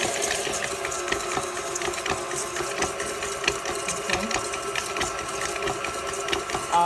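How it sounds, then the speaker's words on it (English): Stand mixer creaming butter and sugar for molasses ginger snap cookies, a steady continuous motor whir with a fast rhythmic beating texture, close and even throughout. "So over to the mixer we go."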